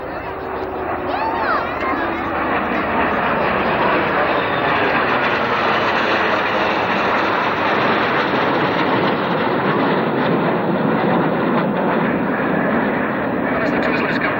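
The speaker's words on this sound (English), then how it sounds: "as all 7 aircraft fan out in 7 different directions with a coloured smoke on" Seven Red Arrows jets at a 1991 airshow make a steady, loud broadband roar that swells and sweeps across the sky, with a commentator talking over the engine noise throughout.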